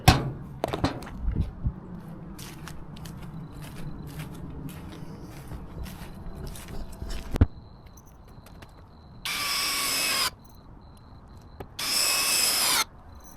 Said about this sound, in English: So I have some 2-inch screws that I'm going to use from the front for the front.